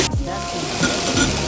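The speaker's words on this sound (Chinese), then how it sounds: "下洋葱，我们把它炒到有点透透的就好了。" Onions sizzle steadily in a hot pan while being stir-fried until translucent, a continuous close frying hiss with faint scraping from stirring.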